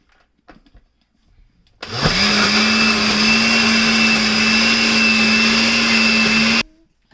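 A blender grinds mango lassi ingredients, starting abruptly with a loud, steady whirring drone that holds for about five seconds and then cuts off, following a few quiet kitchen sounds.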